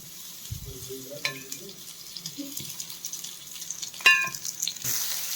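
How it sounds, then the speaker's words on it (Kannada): Half-inch piece of ginger frying in one to two tablespoons of oil in a pan for hotel-style mint chutney, with close, intermittent clattering stirs and a soft sizzle. "ಈಗ ಇದು ಸ್ವಲ್ಪ ಫ್ರೈ ಆಗಲಿ"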